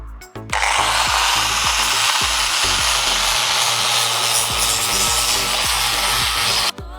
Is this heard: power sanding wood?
yes